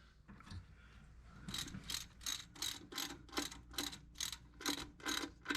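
A ratchet tightens bolts on a Duster 360 engine, a run of quick, close clicking bursts repeating in a steady rhythm after a quieter start, with no talk.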